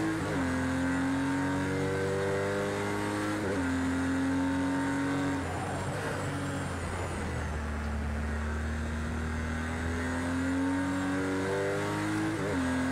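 Damaged GT4 race car engine in the Project CARS 2 racing game, loud and close, with repeated rising revs through the gears, each climb cut by a shift, steady and alone.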